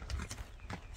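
A horse's hooves strike the ground in a quick, uneven series of soft thuds, faint and close to the microphone, over a short stretch with no talking.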